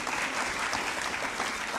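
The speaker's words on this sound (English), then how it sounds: "So please give her a round of applause." Brief round of audience applause after a public history lecture, dense even clapping from a roomful of listeners, somewhat distant and steady.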